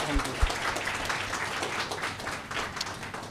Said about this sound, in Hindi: हम सब लोग ताली बजाकर ब्रदर को हम एनकरेज करेंगे